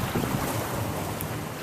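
A 1957 23-foot Lyman lapstrake runabout with round chines cuts through choppy water. Steady wind buffeting and rushing hull wash fill the short stretch, loud and close throughout, with no voices.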